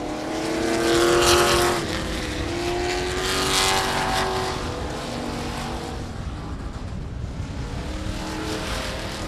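Dirt trucks of the Texas Dirt Truck Series roar around the South Texas Race Ranch track in a hot lap session, engines swelling loud as they pass near, then fading into a steadier, more distant drone.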